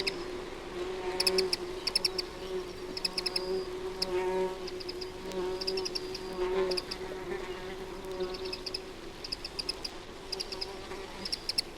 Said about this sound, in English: there's also the constant murmur and hum of insects' wings